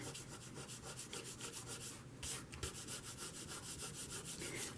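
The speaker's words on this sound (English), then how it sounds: "This is a Fabri-Tac. You can just kind of rub this off." Dried Fabri-Tac craft glue is rubbed off a handmade card with steady, repetitive friction strokes, close and continuous like light sanding, with one brief louder scrape midway.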